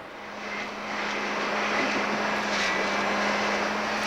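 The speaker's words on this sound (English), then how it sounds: "the memorable Rocky Mountain plane crash in the action-adventure film Cliffhanger" Steady roar of a jet plane crash effect for the action film Cliffhanger, staged in artificial Rocky Mountain snow with a quarter-scale model jet; a continuous airy engine rush with a low hum swells slightly and holds loud throughout.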